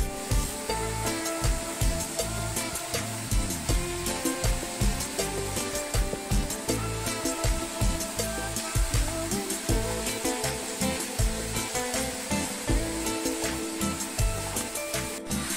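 Onions and ginger fry in oil for a prawn curry, making a steady, dense hissing sizzle with a faint pulsing texture that carries on unbroken, with no voices.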